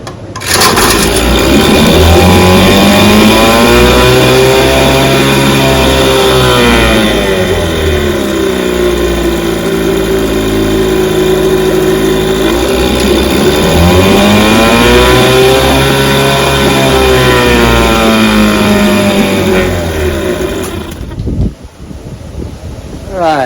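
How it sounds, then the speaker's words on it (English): A 1967 Johnson 3 horsepower outboard motor with a restored carburetor runs loudly and steadily up close, its pitch slowly rising and falling in two broad swells before it cuts out near the end. "here's my test motor, 3 horsepower with my carburetor on it"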